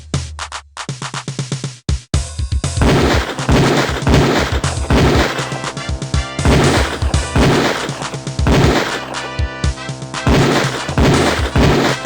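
Rapid pistol shots from a Beretta on a police shooting range in Police Quest IV, a loud string of sharp cracks in quick bursts following a brief quiet pause at the start.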